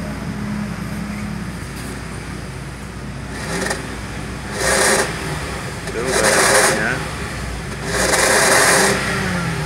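A 2006 Toyota Alphard with a 3000cc engine and an HHO fuel saver fitted idles steadily, then is revved in four short, loud throttle blips that grow slightly longer, while people talk nearby.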